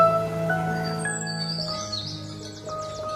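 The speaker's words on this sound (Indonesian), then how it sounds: "mendengarkan kicauan burung" Birds singing in a Swiss village, high chirps and twittering trills drifting over a steady musical backdrop, moderately faint and at a middle distance.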